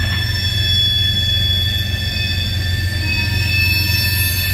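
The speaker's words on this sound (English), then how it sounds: "DPU backing down the throttle." A CN freight train at Ladysmith, 102 loads in a 2x1 configuration, throttles down its DPU locomotive: a loud, steady low diesel rumble under high, sustained wheel-squeal tones.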